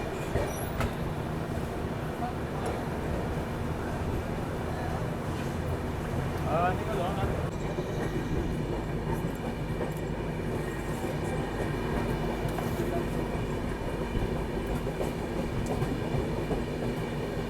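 The Garib Rath Express pulls away from a station with a continuous low rumble and rolling wheel noise that holds steady throughout, heard from on board with faint background sounds.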